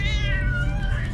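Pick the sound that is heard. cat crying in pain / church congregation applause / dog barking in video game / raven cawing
cat crying in pain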